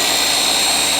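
DeWalt cordless power washer losing prime, a loud steady high-pitched whirring whine with constant hiss, close and uninterrupted.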